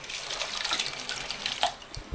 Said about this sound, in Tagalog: Tapos may malakas ang tubig.